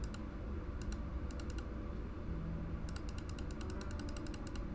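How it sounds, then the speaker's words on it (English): Computer mouse buttons pressed hard and fast during a crime-scene game, heard as tight clusters of sharp clicks in bursts over a steady low background hum. "You can probably hear me clicking as hard as I can"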